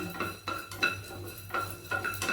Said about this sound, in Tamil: நல்லா மனம் வர மாதிரி வறுத்துக்கலாம் பொடிய ஆரம்பிச்சிருச்சு பாருங்கள் பொரியுது